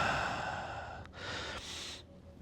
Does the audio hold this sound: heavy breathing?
yes